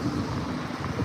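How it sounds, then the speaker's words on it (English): Strong wind buffets a microphone outdoors on a morning dog walk, making a steady, dense roar with no pauses. "it's too windy"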